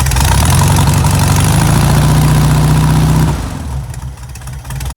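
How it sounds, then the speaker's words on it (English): Volkswagen Beetle engine idling with a worn engine belt bouncing around: a steady, loud mechanical drone with a low hum, which drops away near the end as the engine shuts off. "We're gonna turn on the engine and show you how it's bouncing around"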